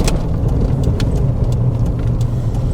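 Inside a 1997 Toyota Hiace 4WD van with a 1KZ engine on the move, a steady mid-pitched engine drone and road hum fill the cabin with no break.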